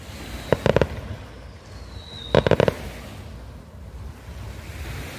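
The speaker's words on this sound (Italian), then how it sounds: "fuochi bellissimi." Fireworks burst over a beach at night in two quick crackling volleys of sharp pops, one early and one near the middle, with a whistle trailing between them, all over a steady wash of surf and wind noise.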